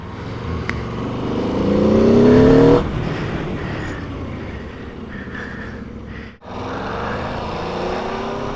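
A 2021 Aprilia RSV4 1100 Factory motorcycle engine while riding, revs rising to a loud peak, then easing off into a lower rumbling drone with brief gear-change dips, heard close with wind noise.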